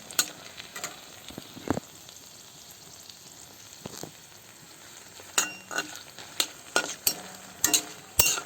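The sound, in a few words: frying spices and dried black pepper in a pan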